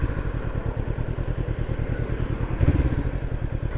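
A Honda CBR 500 R motorcycle engine idles nearby with a fast, even putter, briefly swelling louder as the throttle is blipped.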